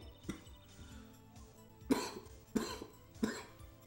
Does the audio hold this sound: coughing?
yes